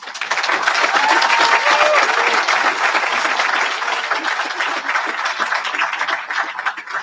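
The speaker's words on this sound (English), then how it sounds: "Can we give Aaliyah another gigantic round of applause?" A large graduation ceremony audience gives a loud, sustained round of applause, with many hands clapping densely for several seconds and tapering only slightly toward the end.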